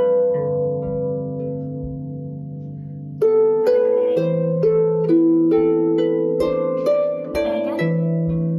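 Manx harp played solo up close: a sustained low note rings first, then a run of plucked notes in a steady, unhurried melody.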